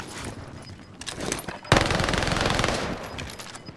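Gunfire in a shooter video game: scattered shots, then at mid-clip a loud, sustained rapid burst of machine-gun fire with no talk.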